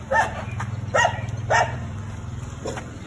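Three sharp dog barks a second or so apart on a street in Lopburi, Thailand, over a steady low engine rumble, with a softer yelp near the end.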